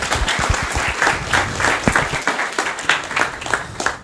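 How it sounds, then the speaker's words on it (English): An audience applauds after a talk at a conference session, steady dense clapping from a crowd that holds for several seconds at a fairly loud, even level. "Big applause."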